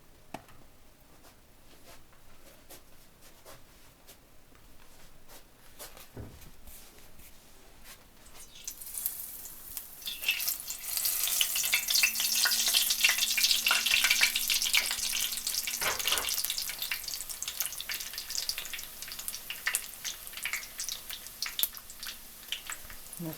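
Breaded cutlets frying in a pan over medium heat, the sizzle starting quiet and swelling to a loud, crackling hiss that stays steady, with occasional small clinks.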